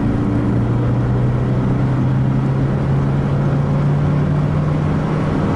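A 1994 Chevrolet Monza runs in third gear after a downshift, its engine giving a steady, droning hum under road and wind noise inside the cabin.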